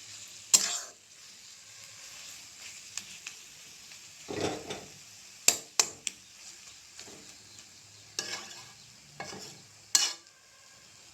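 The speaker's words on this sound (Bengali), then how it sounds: "জালটা একদম লো ফ্লেমে রেখে আস্তে আস্তে কচুটা ভাজতে হবে যাতে মশলার সাথে ভালোভাবে মিশে যায়" Taro pieces frying slowly with spices over a very low flame, a faint soft sizzle with scattered scraping stirs and occasional sharp clinks, close by and alone.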